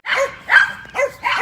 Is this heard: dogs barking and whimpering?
yes